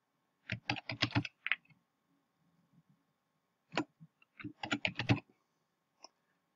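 Typing on a computer keyboard while entering placeholder data, heard as two quick bursts of close, crisp key clicks with a short pause between them and a single tap at the end.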